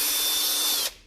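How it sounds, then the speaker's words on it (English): A power drill rigged to clean a paint spray gun whirs steadily at high speed, loud and close, then winds down abruptly near the end. "I've got the drill set up for cleaning my spray gun."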